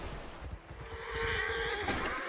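Horses neigh in the video game Roblox: game background noise leads into a loud, drawn-out whinny that rises and falls in pitch, close and prominent, with no talking.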